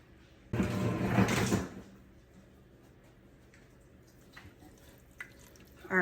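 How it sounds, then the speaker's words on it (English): Chicken is slowly added into a creamy mixture in a pot, giving a soft wet splat and slosh lasting about a second, followed by quiet small clinks and stirring. "I'm going to slowly add in the chicken so that we don't make a big old mess with splashing."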